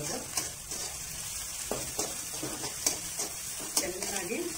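Onions and green chillies frying in a pan, a soft continuous sizzle broken by repeated light scrapes and taps of a spatula stirring at an irregular pace, close by and fairly quiet.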